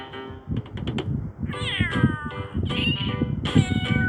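A cat meows repeatedly in a cat food advertisement, several short clear calls followed by longer drawn-out wailing meows, close and loud with no talk over them.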